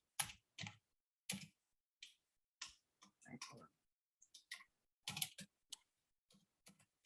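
Quiet keyboard typing with irregular clicks and keystrokes coming in short bursts and pauses, nearby in an otherwise silent room.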